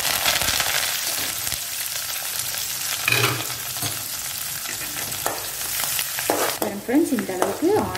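Onions hit hot oil already crackling with fennel seeds, giving a loud, steady frying sizzle throughout, with a few scraping and stirring knocks near the end.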